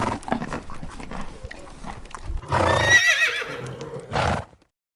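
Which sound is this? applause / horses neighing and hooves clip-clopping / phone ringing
horses neighing and hooves clip-clopping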